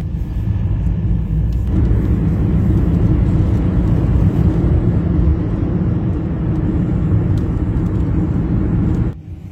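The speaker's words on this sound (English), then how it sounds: "It's Monday, it's March the 7th, and my lift's here. That's Amy's car." Amy's car arriving to pick someone up for a hospital trip, a steady, loud low engine rumble close by that holds for about nine seconds, then cuts off abruptly at the end.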